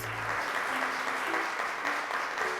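A studio audience on a children's television show gives steady applause, a sustained, evenly packed clapping that runs the whole length without pause.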